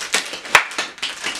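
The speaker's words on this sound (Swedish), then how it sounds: "En stor applåd." A few scattered claps land one after another, sharp and close, with one louder slap standing out midway, brief and uneven rather than a full round of applause.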